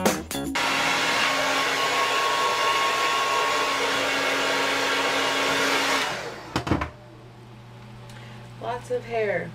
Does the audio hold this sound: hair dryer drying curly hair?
yes